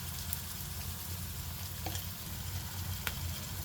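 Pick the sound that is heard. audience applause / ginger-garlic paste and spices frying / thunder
ginger-garlic paste and spices frying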